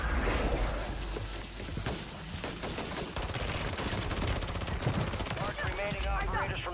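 Rapid bursts of automatic gunfire from an M4A1 in the video game Warzone, dense and loud, repeating shots with occasional breaks and a brief voice under the clatter.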